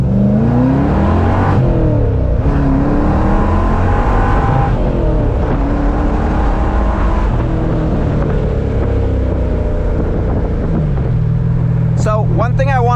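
A V8-swapped Mazda Miata pulls hard under acceleration, its engine note climbing through the gears in loud rising sweeps with brief dips at each shift, close and continuous for the whole stretch.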